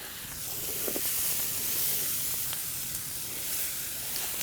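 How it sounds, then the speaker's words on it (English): Rice toasts in a paella pan for a rabbit and saffron paella, giving a steady soft hiss and sizzle with a few faint scrapes of stirring, close but fairly quiet. "So I got the rice in there. Stir this a bit."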